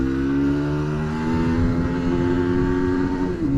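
An FB Mondial Piega 125 motorcycle engine accelerates hard with a loud, raspy, rising drone as the revs climb steadily through a long gear, heard close up.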